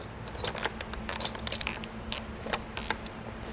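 Inno Aero Flush roof rack crossbar on a naked roof being tightened with its included tool, giving a run of small, close, crisp clicks and ratcheting ticks at an uneven pace, with no talking.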